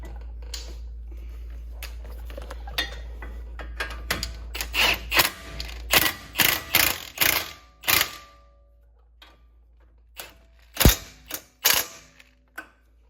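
Bolts are run down snug by hand during a front brake pad and rotor job on a 2014 Ford Explorer Sport, heard as a quick run of close ratcheting clicks and mechanical clatter with pauses and a few louder knocks.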